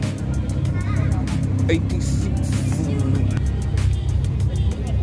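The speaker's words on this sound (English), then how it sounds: "The iconic motors just stabbing out hard. That's exactly how that car sounds." A Datsun engine at a car meet rumbles low and steady nearby, with a brief rise in revs, while people talk over it throughout.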